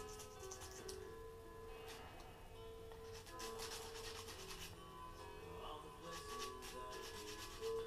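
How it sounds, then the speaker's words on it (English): Bamboo being sanded smooth for a self nock, a steady rubbing rasp of abrasive on bamboo that continues throughout, close and moderately quiet with brief louder strokes. "Get it all smoothed off"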